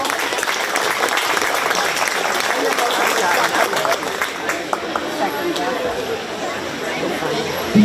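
Audience applause at a county fair 4-H swine show, steady clapping filling the arena for the full stretch with some crowd chatter mixed in.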